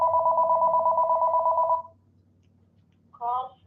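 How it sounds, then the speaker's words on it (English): A phone's electronic ring trills loudly and steadily for almost two seconds, then after a pause a second warbling ring starts, nearby with no talking. "I got a phone going off here."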